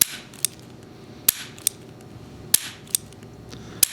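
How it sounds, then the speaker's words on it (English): A revolver's trigger is pulled and its hammer cocked, so the cylinder indexes and locks up. Crisp, close metallic clicks come in irregular pairs, with quiet gaps between them. "So it indexed every time we pulled that trigger or cocked the hammer"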